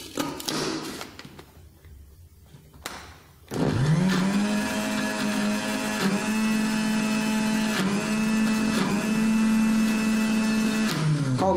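An electric blender or grinder processes almonds with argan oil to make amlou, starting up after a few seconds of quiet clatter and then running as a loud, steady motor whine with brief dips in pitch as the load shifts.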